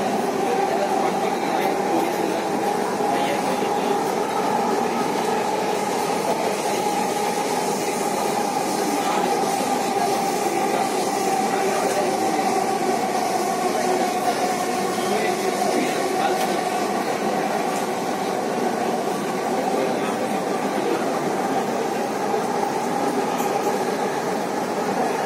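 A Bengaluru metro train running, with a steady rumbling hum and the constant wash of a car in motion that holds at an even level throughout, heard from inside with no voices.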